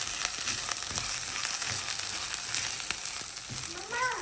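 Soaked long-grain basmati rice, salted, stir-fried in fat in a pan, giving a steady sizzle with scraping stir strokes throughout and a voice briefly at the end.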